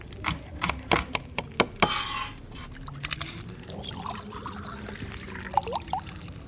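Water being poured and purified in The Long Dark, with a brief splashing pour and a cluster of sharp clicks and knocks, followed by quieter handling sounds.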